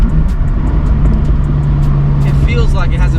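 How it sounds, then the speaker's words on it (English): A BMW M4 fitted with an equal-length titanium catback exhaust in sport mode holds a loud, close, steady engine drone, with a voice briefly breaking in near the end. "I feel like this car has a very specific tone to it now with the catback equal length titanium exhaust system I have here"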